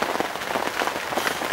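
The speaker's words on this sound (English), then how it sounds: "You can probably hear the rain coming down on the bivvy now, absolutely lashing it down" Heavy rain lashes down on a fishing bivvy, a dense steady patter drumming on the fabric shelter, close and continuous with no voices.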